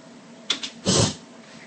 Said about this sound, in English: This was my Lynx can.